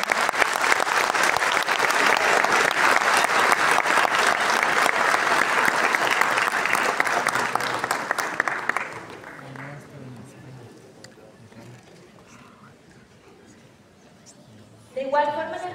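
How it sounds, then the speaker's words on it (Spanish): Strong, sustained applause from an audience welcoming a woman to the stage at a spiritual talk, loud and dense for about eight seconds, then dying away into quiet room noise before a voice starts speaking. "Recibamos con un fuerte aplauso a la señora Carmen Cecilia Cardona."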